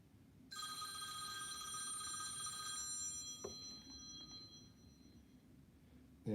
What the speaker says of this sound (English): I just picked up the phone.